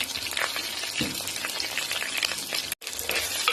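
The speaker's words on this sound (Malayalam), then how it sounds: "ഉള്ളി നന്നായി ഇളക്കി കൊടുക്കാം. നന്നായി വാടി വരട്ടെ." Onions with curry leaves sizzling steadily in a hot pan, stirred now and then with scraping spoon sounds, close and continuous with a brief break near the end.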